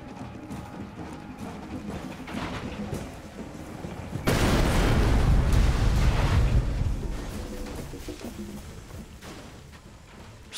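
In Far Cry 2, an IED rigged on a bridge detonates with a sudden heavy boom and a rumbling blast that swells loud for a few seconds, then fades, over earlier background game noise.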